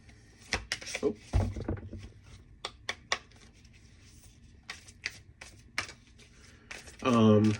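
A tarot deck is shuffled by hand in quick, papery riffles and soft slaps, close and steady. A voice is heard briefly near the end.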